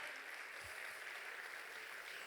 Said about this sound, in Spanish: Denle un aplauso, sí,